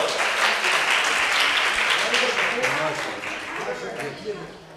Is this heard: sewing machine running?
no